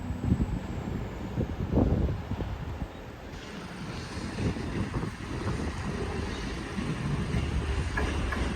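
A train runs through Croes Newydd level crossing in Wrexham, a rumbling, clattering rush mixed with wind buffeting the microphone, steady and moderately near throughout.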